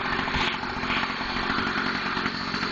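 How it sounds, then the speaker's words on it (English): An 80cc motorized bicycle engine runs steadily at close range, a loud, continuous buzzing throaty drone with no pauses and no talk over it. "I got the second bike running"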